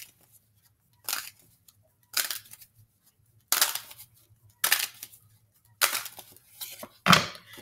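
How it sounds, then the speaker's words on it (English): Tarot cards being shuffled for a reading, six or seven separate crisp bursts of riffling spaced about a second apart, close and fairly quiet, over a faint low hum. "I'm going to shuffle 7 times for you"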